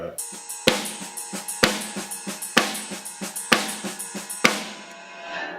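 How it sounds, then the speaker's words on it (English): A steady drum groove with sharp, cracking rim-shot backbeats landing at regular intervals over lighter ticking strokes, close and dry, with no voices. "you can just do that backbeat as a rim shot"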